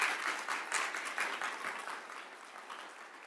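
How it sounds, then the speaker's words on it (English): An audience at a fall university convocation gives a round of applause, a burst of clapping that gradually fades. "Give her a round of applause,"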